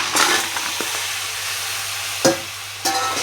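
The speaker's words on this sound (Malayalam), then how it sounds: "നന്നായിട്ടൊന്ന് ഇളക്കി കൊടുക്കാം കേട്ടോ" Crab roast masala sizzles in a pan while being stirred, a close steady frying hiss broken by a few sharp scrapes and clatters of the spoon.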